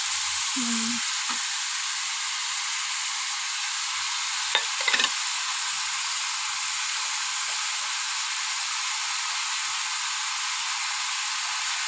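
A spice paste with ginger and chili for a chicken stew sizzles steadily in a hot pan, a constant bright hiss with a couple of brief stirring scrapes and clinks partway through.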